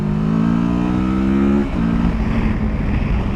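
A Kawasaki Versys 650 middleweight adventure tourer motorcycle accelerates hard from a start. Its engine rises steadily in pitch, drops briefly at a gear change and then pulls again, loud and close. No one speaks.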